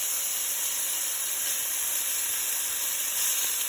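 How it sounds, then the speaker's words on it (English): Oxtails browning in a skillet give a steady, close hiss of sizzling fat that holds even and unbroken for the whole stretch, with no other sounds over it. "You just want to kind of brown it in the skillet."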